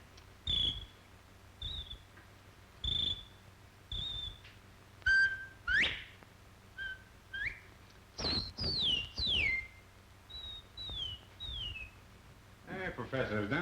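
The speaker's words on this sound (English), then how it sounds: "You take this bottle and you whistle in it" A man whistles into an old bottle, producing a series of short, clear whistled notes and rising and falling slides, some trilled, spaced by pauses in a quiet room.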